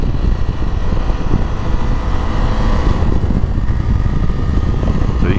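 KTM street motorcycle built on the Duke chassis, ridden hard through twisty roads, giving a loud, steady engine drone with wind rush mixed in throughout, close and continuous with no talk.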